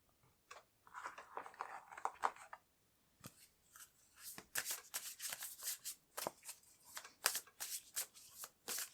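Tarot cards being shuffled by hand: a soft papery rustle at first, then a run of quick, crisp riffling snaps and slaps that repeat irregularly and stay close and fairly loud, with no talking.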